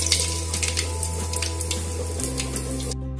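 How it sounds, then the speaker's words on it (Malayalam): Mustard seeds crackle in hot oil in a pan for Kerala-style mutton varattiyathu, a steady sizzle with faint scattered pops under a low, continuous hum, and no voices. "കടുക് പൊട്ടി തുടങ്ങിയിട്ടുണ്ട്."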